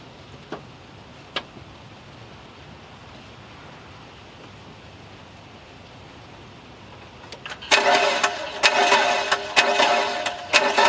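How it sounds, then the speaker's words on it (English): A 2004 Mitsubishi Galant engine that cranks but will not start, heard after a long quiet stretch with a few clicks as the starter kicks in and grinds loudly and rhythmically. "crank the car"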